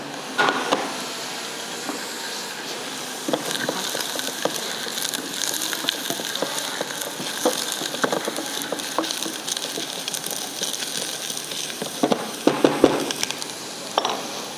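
Onions and carrots sauteing in a pan while pigtails are barbecued: a steady, loud sizzling hiss with a few crackles and scrapes, sharper spatter near the end.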